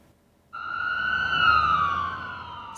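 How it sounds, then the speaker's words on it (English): A loud wailing siren starts abruptly after a brief quiet moment and holds steady, close by with traffic rumble beneath. "Sirens, breezing through red lights"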